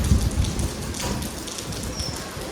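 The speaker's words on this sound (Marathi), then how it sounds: "पडतो थांबतोय पाऊस." Steady rain falling in Lonavala, a dense, even hiss throughout with faint bird chirps in the background and no talk.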